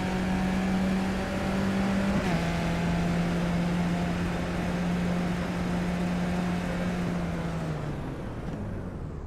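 A Skip Barber race car in the iRacing simulator holds a steady, droning engine note down a straightaway at Zolder, with one brief shift and then a slowly falling pitch toward the end.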